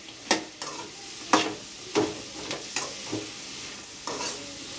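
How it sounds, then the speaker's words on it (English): Deep-fried chicken gets stirred into a chilli sauce in a pan: a spoon scrapes and sloshes in repeated strokes, about one per half second, over a soft steady sizzle, close by with no talking. "Mix the sauces and chicken very well."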